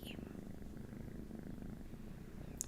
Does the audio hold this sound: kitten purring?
yes